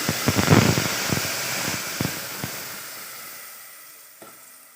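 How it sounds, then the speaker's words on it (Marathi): Ground spice paste hits hot oil with reddened crushed garlic for a Konkani fish curry, a loud burst of sizzling that settles into a steady hiss and fades, with a few scraping stirs. "मी आता हे वाटण फोडणीला टाकते"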